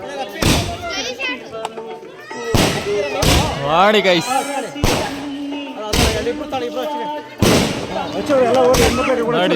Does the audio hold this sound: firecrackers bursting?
yes